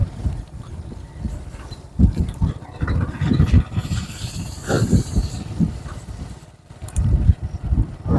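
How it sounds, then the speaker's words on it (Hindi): Motorcycle ridden slowly along a badly broken rural village road, the engine surging and dropping unevenly with thumps and rattles from the rough surface, close and loud. "बड़ी मुश्किल से यहाँ पर हम बाइक को चला रहे हैं।"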